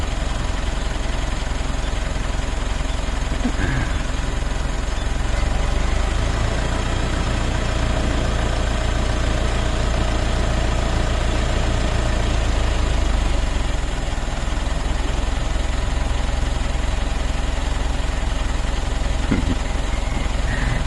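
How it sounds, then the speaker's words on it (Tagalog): A motorcycle engine idles steadily for about twenty seconds, a continuous low rumble close by with no speech over it. "Magmumotor lang siya"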